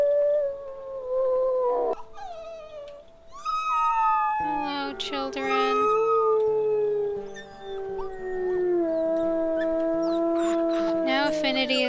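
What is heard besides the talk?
wolf howl in WolfQuest video game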